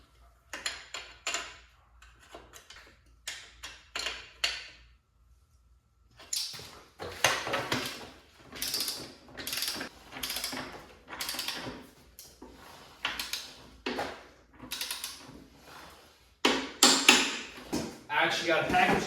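A hand ratchet works on motorcycle parts during a wrecked Honda CBR600RR rebuild, with bursts of rapid clicking strokes separated by short pauses, close and fairly quiet, plus a few clanks of tools and parts.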